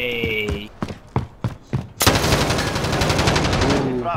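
Gunfire in the Rebirth Island video game: a handful of separate sharp shots at close range, then a loud, continuous rapid burst that carries on to the end.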